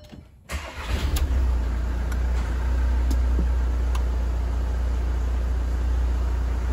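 A car engine cranks briefly, catches, and settles into a steady low idle hum, close and loud, running on without any voices.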